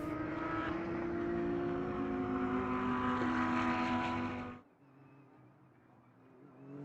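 A GT3 race car at Sonoma braking into turn 9, its engine roaring loud and close with falling pitch, then cutting off abruptly to a quieter background.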